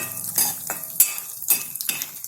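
Walnuts roast in a pan over a low gas flame while a spoon stirs them, producing several scraping, clinking strokes against the metal with a soft sizzle between them.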